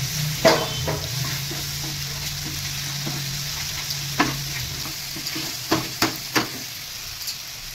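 Cabbage frying with poppy seed, cashew and melon seed paste, a steady soft sizzle broken by a few sharp spoon clicks against the pan.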